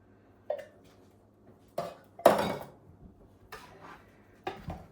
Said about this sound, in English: Butter knife always works really good for stirring.